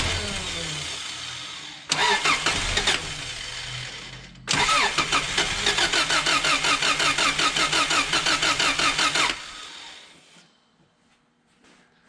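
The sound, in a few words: 2003 Subaru Baja engine starting and idling low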